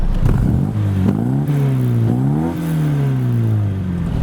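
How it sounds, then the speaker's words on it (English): Smooth car exhaust revving close and loud, the engine note rising and falling through several throttle blips with a steady burbling tone and no speech. "It's a really smooth and actually rather nice exhaust if you like that kind of thing"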